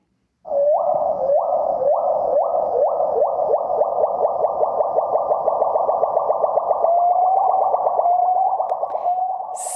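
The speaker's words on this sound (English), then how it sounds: "they are the adult pileated gibbon. They are dueting." Adult pileated gibbons sing a duet, a loud run of rising, whooping notes that repeat in quick succession, then give way to longer, sliding wavering calls, with no other sound.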